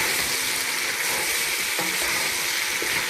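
Pork sizzling steadily in a hot pan while being stirred, a continuous bright crackle with a few scraping knocks of the spoon, close and loud with no voices.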